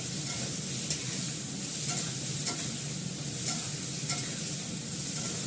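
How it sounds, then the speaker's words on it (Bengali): Fenugreek seeds tempering in a little hot oil, giving a steady, dense sizzle close by with faint periodic clicks of a spoon against the pan, no voices. "এর মধ্যে দেবো হচ্ছে মেথি ফোড়ন"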